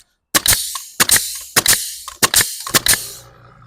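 A pneumatic nail gun, fed by a Makita MAC100Q quiet compressor, fires about six sharp, loud cracks in an irregular sequence, each a brief snap with a short hiss, close up.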